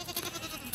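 Goat bleating at an Abluk goat farm, a short faint bleat or two heard briefly.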